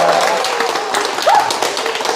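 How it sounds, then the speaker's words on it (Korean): An audience claps together throughout a Sunday Buddhist dharma service on a snowy winter day, a dense, steady wash of many hands with no pauses. "신나는 박수와 함께 출발하겠습니다"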